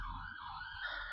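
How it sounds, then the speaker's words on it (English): An ambulance siren wails nearby, a continuous rising and falling tone filling the moment on its own with no talk. "this ambulance is just doing my head in"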